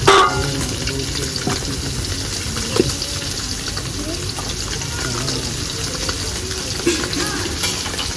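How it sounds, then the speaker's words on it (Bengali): Snakehead fish frying in hot oil in a home kitchen for a sour mango dish, a steady close sizzle running throughout with a few brief clinks. "তেলে ছেড়ে দিয়েছি"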